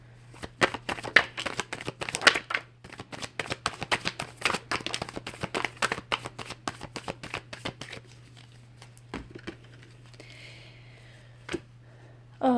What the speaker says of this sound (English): But let's get right into the cards here,